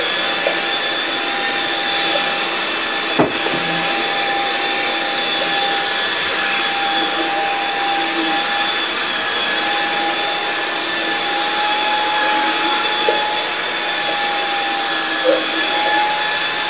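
A Jimmy PW11 Pro Max wet floor cleaner runs steadily with its rollers turning, a close, constant whirring hum with a faint high whine and no noticeable pauses.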